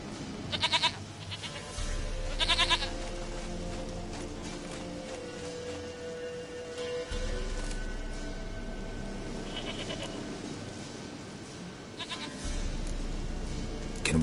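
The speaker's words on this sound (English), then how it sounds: "sweetest goat." Goat in The Witcher 3 bleating repeatedly, several nasal calls spaced across the stretch, close and clear over a low droning game ambience.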